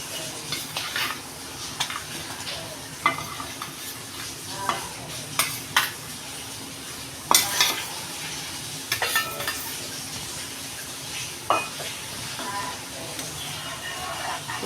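Pieces of fish drop into a simmering fish molee curry in a pot, giving soft sizzling and bubbling broken by clinks of a utensil against the pan, close by, with light talk in the background.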